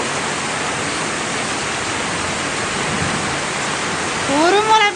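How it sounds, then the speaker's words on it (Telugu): Heavy monsoon rain pours down in a continuous dense roar, close and loud, with a voice rising briefly near the end. "చినుకుల వర్షం ఇది"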